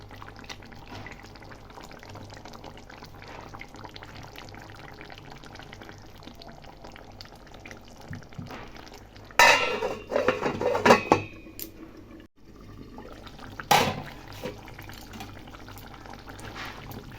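Cabbage curry being made in a pot, with metal utensil clinks and a burst of pouring liquid and clatter midway against a quiet kitchen background.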